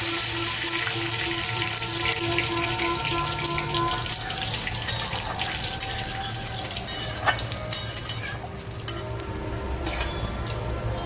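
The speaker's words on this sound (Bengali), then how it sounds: "ফোড়নে দিলাম দুটো শুকনো লঙ্কা আর সাদা জিরে" Dried red chillies and cumin seeds crackle and sizzle in hot oil for a Bengali tempering, a steady close frying hiss with a few sharper pops toward the end and no talking.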